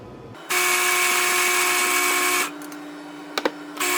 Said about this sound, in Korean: 일단 안쪽에 챔버 안에 있는 밀가루를 다 빼주기 위해 갈아내겠습니다.